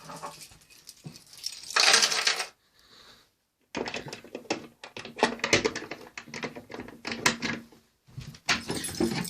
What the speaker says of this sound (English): The machine's going to reset like normal.